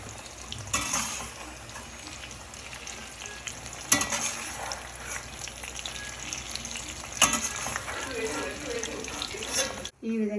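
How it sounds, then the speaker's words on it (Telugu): Pickle ingredients deep frying in oil make a continuous bubbling sizzle with scattered clinks and stirring scrapes, sometimes sounding like running water, and a brief dropout near the end. "ఈ విధంగా మొత్తం వేయించుకొని డీప్ ఫ్రై చేసుకుని పక్కన పెట్టుకోవాలి."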